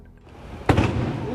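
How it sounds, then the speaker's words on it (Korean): A single sharp bang bursts from the burning engine compartment of a city bus in Bucheon, cutting through a quieter background and trailing off into a rumbling decay. "깜짝 폭발이야."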